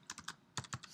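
Quick bursts of keystrokes on a computer keyboard as a web address is entered, several close, crisp clicks in two uneven clusters with a short pause between, no voices.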